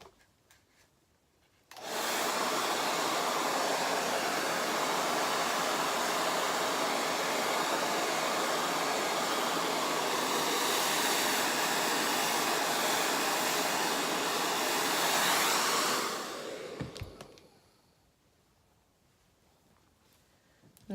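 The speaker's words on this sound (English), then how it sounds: "Get your dryer and just get your dryer, and you want to blow the inside dry." A hair dryer switches on and blows steadily at close range for about fifteen seconds, drying the inside of a quick weave wig, then cuts off, leaving near silence.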